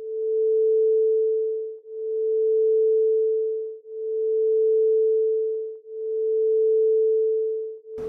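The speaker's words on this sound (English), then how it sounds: "the sound that I paired with it, something called binaural beats" Binaural beat tones, a single pure steady hum pulsing slowly in four even swells, quiet and alone, ending in a brief click.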